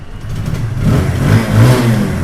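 A blue 2020 TVS Apache RTR 2V motorcycle with single-channel ABS revs its engine close by, a steady low rumble that swells and rises in pitch over two seconds, loud and unaccompanied by speech.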